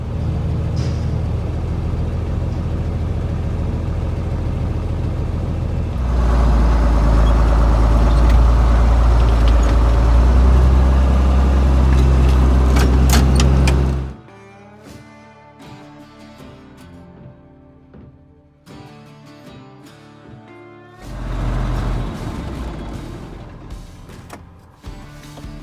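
A repaired vehicle driven home after a backwoods roadside repair: a steady engine and road drone fills the cabin, swelling louder midway, then drops to quieter rattles and faint mechanical clicks before the engine rises again.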